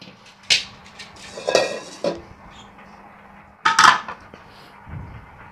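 Metal frying pans, Teflon, enamel and marble-coated, clatter and scrape as they are shifted, with a few sharp knocks and clanks spaced over several seconds, close by, no voices.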